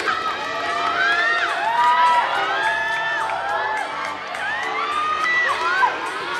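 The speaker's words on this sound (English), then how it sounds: "The students are requested to cheer their house." Students at a school annual day function cheer for their houses during a lane race, a lively crowd of young voices with high shouts and whoops rising and falling over several seconds.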